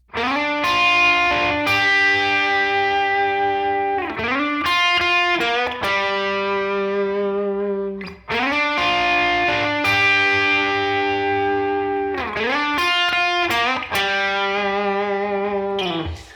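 Overdriven electric guitar plays a sustained slow-blues pentatonic lick with bends and ringing notes, repeated twice with a brief pause between, loud and up close.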